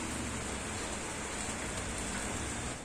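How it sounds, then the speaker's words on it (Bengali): Steady rain falling at night, a continuous dense hiss with no distinct drops standing out, fairly soft and unbroken throughout. "আর এইদিকে দেখো আবার বৃষ্টি শুরু হয়েছে"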